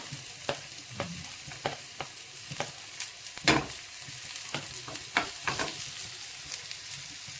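Cumin seeds fry in hot oil as a spoon stirs them, giving close, crackling sizzles with repeated scraping strokes in an irregular rhythm.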